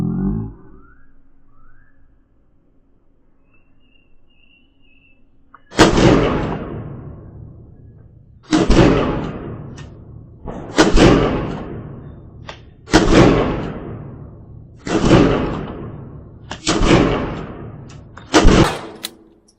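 A GSG 1911 Target .22LR pistol fires six sharp shots at uneven intervals of roughly two seconds, each a loud close crack with a ringing decay, after a quiet lead-in.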